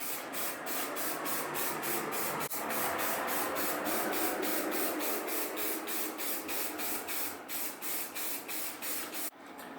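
Short repeated bursts of spray paint hiss close by while a Christmas tree is frosted, a steady rhythmic series of loud aerosol sprays, the last few spaced farther apart.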